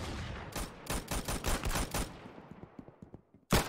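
Bursts of gunfire from the Roblox shooter game Arsenal: a string of close, rapid shots through the first two seconds that thins into scattered pops, then one loud blast at the end.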